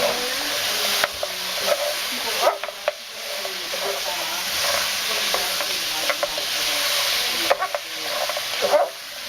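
Spare ribs coated in oyster sauce and cornstarch are stirred in a hot pan, with close utensil scrapes and clacks over a steady sizzle of frying.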